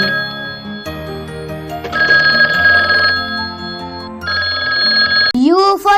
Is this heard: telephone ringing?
yes